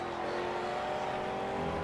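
A race car engine circling Laguna Seca in the Project CARS video game drones at steady high revs, a continuous moderate-level whine with no speech on top.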